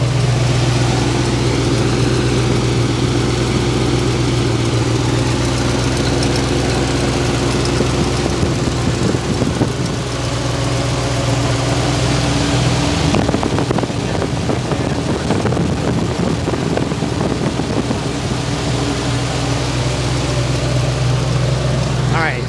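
A 1970 Oldsmobile Cutlass engine idles close up in the engine bay, a low constant hum with a mechanical rattle, joined midway by louder clattering and rushing noise.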